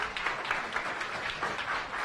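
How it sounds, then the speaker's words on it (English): An audience at a science cafe talk applauds its guests with a soft, continuous patter of clapping in a room, moderately distant and gently pulsing. "Let's give our guests one more round of applause."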